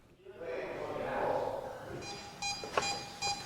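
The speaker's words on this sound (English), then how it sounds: "EMF detector went off" An EMF detector gives a few short electronic beeps during a ghost-hunting sweep of a hallway, sharp tones in the second half following murmured talk and rustling.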